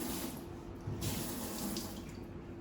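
A drinking glass rinsed under a running kitchen tap: a steady hiss of flowing water with a brief splashier surge as the glass meets the stream, close and moderately quiet.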